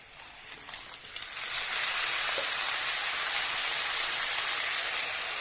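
Sea crab dropped into hot oil in a pan after lightly browned vadi, the sizzle jumping suddenly from a faint hiss to a loud, steady, rain-like crackle that holds to the end.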